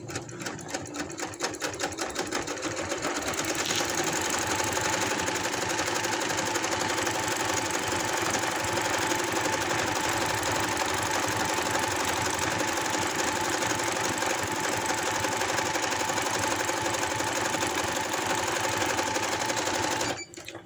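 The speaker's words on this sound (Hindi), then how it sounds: "इस तरह से एंड तक मैं इसकी सिलाई लगा दूंगी।" A sewing machine stitches the seam of palazzo pants in one long, fast, rhythmic run, a close and steady mechanical whir with rapid needle ticks lasting about twenty seconds.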